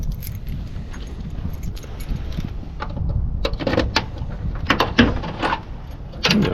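Keys jangle while someone opens a 1971 Firebird. Soft rustling builds into bright, metallic jingles and clinks that cluster in the second half, close and fairly loud.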